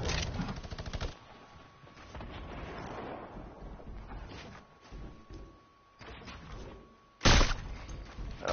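Automatic gunfire from a PS4 shooter rattles in a dense burst at first, then sporadic shots and a sharp loud blast near the end, with faint game background between.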